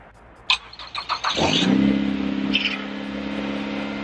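A Ford Fusion being rebuilt is started: a few clicks and cranking pulses, then the engine catches and settles into a steady idle, close and loud.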